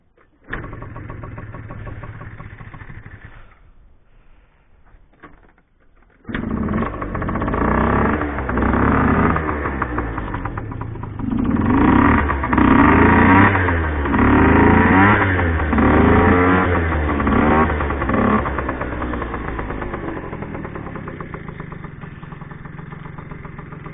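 A vehicle whose electric starter no longer works rumbles loudly, goes quiet, then starts again and settles into a rough idle with repeated revs rising and falling, heard close with no talking.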